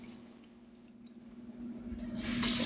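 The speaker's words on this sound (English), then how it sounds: "We're going to pour all this milk off of it." Milk pours off raw deer meat in a home kitchen, a quiet trickle that swells into a louder, fuller splash near the end.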